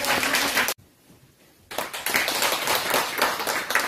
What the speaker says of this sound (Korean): 박수를 부탁드립니다.